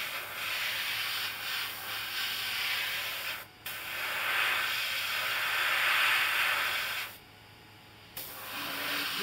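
Airbrush sprays dark black paint onto a model rocket nozzle in a steady close hiss, with two brief pauses where the trigger lets off before the spray resumes.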